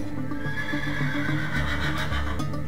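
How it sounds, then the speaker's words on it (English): Horses in Minecraft whinny and neigh repeatedly over a steady bed of background music, close and fairly loud, with faint hoof clopping mixed in. "Yes, the horses will keep you up all night."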